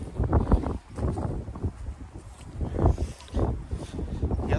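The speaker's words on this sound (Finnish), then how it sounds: "on niin mahoton tää tuuli" Strong wind buffets the microphone in heavy, rumbling gusts that rise and fall throughout.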